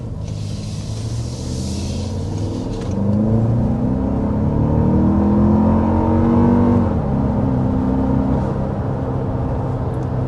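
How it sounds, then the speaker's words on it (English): A Toyota Grand Highlander Hybrid Max accelerates hard uphill, its steady cabin drone rising into a louder, climbing engine whine that swells midway and then settles, heard up close from inside with no talk. "we want to start with a hard acceleration though"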